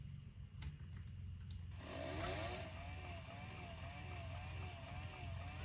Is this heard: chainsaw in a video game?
yes